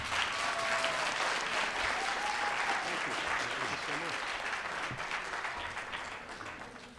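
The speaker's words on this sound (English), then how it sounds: "I want you all to give him a round of applause" Sustained audience applause for St. Louis Mayor Francis Slay at a charitable foundation graduation ceremony, dense and steady throughout with a few faint voices mixed in, easing slightly toward the end.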